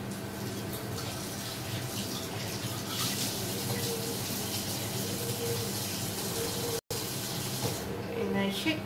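Tap water running steadily over enoki mushrooms being rinsed in a kitchen sink, a continuous close splashing flow with one brief break before it resumes.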